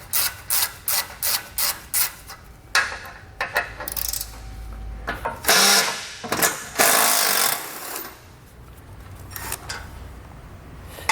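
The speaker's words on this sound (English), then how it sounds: "We'll take a 15mm socket. Having a short extension may help, especially for the top ones, but we're going to pull all of these bolts out." A ratchet with a 15mm socket loosening and pulling bolts on a 2020 Jeep Cherokee, rapid clicking pawl bursts in short repeated runs, then longer rasping turns and metallic scraping, close and alone.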